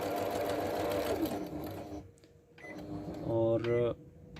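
A Juki HZL-S560 sewing machine runs a picot stitch, its steady mechanical whir close and loud, then it slows and stops before a short burst of rhythmic needle clatter, with a person talking alongside.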